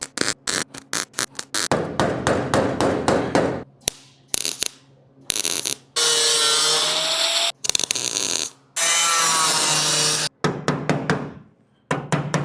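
Power tool cutting a sheet-metal hood panel on a custom VW GT40 build, loud bursts of rapid rattling cuts broken by short pauses, with several longer sustained grinding passes in the middle, close and alone.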